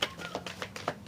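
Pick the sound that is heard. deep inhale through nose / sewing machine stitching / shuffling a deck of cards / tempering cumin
shuffling a deck of cards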